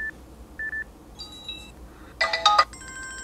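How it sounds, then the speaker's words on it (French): Electronic ringtone for voice calls on a Landvo S6 smartphone, a Samsung Galaxy S6 clone: short separated beeps, then a brief cluster of layered tones and a sustained chime at the end, fairly quiet and without talk. "Sonnerie appel vocal"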